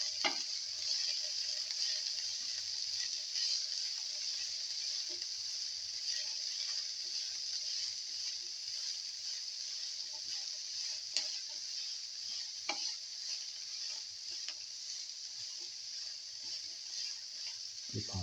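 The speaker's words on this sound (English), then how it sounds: "Thoroughly saute until the onions lose their" Onions, garlic and cheese sautéing in a pan give a steady hiss of sizzling oil, with occasional small clicks and taps of stirring, continuous and moderately close.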